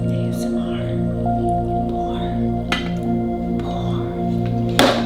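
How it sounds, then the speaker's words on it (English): Coffee is poured into a cup, giving soft liquid drips and squishy splashes over a steady background hum, with a brief louder splash near the end. "Taking my lovely cup, taking my lovely coffee, pouring it up"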